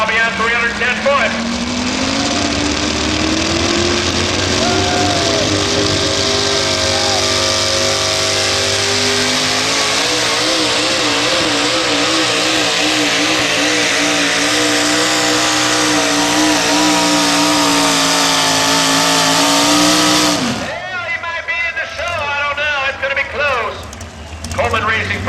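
The Old Yeller Ford pulling truck of Randy Kleinkamp roars at full throttle through a tractor pull run, a loud sustained engine wail with rising pitch for about twenty seconds before it suddenly cuts off, leaving quieter crowd and background noise.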